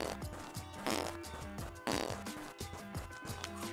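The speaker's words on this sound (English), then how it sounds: "Jesus, that farting is getting bad." Repeated wet, sputtering fart noises in a video game, several bursts in a row, loud and close, with no talk over them.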